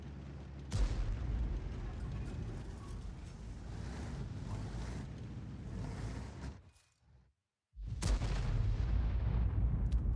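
Artillery shell explosion in a World of Tanks battle: a deep, rumbling boom starts abruptly and holds loud, fades almost to silence, then a second heavy blast roars back in.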